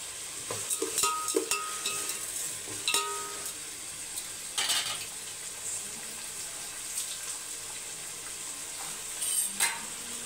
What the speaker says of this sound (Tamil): வெங்காயம் வதங்கட்டும், டிஸ்டர்ப் பண்ண தேவையில்லை.